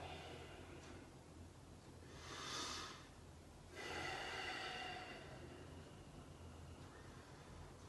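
Two soft, breathy exhalations during a relaxed stretching exercise for back pain, quiet and close with a low hum in the background and no speech.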